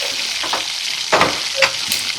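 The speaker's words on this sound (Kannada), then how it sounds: "ನಾನು ತುಪ್ಪದ ಒಗ್ಗರಣೆ ಕೊಡ್ತಾ ಇದ್ದೀನಿ ನೋಡಿ ಸಾಸಿವೆ ಸ್ವಲ್ಪ ಜೀರಿಗೆ" Mustard seeds and cumin sizzle and crackle in hot ghee for a tempering, a steady close hiss broken by a few sharp pops and stirring scrapes, with no voice.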